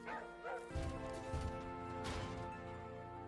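A dog barks and yips close by in several short bursts over a steady background hum, with a voice mixed in at times.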